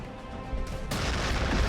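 A Molesher cannon of the Astra Militarum fires in a Warhammer 40,000 video game battle, a sudden loud blast that swells into a sustained rumbling roar.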